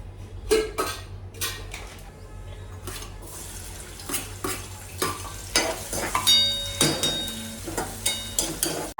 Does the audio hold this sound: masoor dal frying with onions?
yes